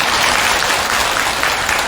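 Applause from a gathered audience at a Buddhist dharma talk in a temple hall, a dense, even, fairly loud clatter of clapping throughout the short stretch, alone without speech.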